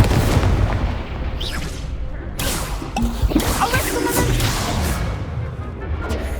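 Confringo and Incendio spells go off in Hogwarts Legacy as a dense, continuous barrage of booming blasts and crackling impacts, loud and layered throughout, with sharp bursts stacking over a rumbling bed.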